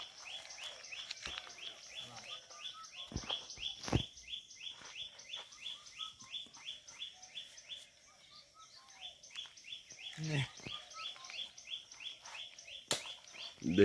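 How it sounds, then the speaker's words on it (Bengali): Birds singing outdoors, a fast repeated high chirping phrase running steadily throughout, with a few scattered thumps and other calls in the background, fairly faint. "একটা পাখির আওয়াজ পাচ্ছিস? খুব সুন্দর আওয়াজ আসছে।"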